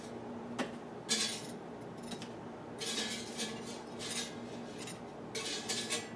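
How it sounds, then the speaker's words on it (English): Tongs scrape and click against a NutriChef 6.8-quart XXL digital air fryer basket while lifting crispy hash browns, producing light metallic taps and short crunchy rustles in separate bursts. "So I'm going to use tongs to get these hash browns out"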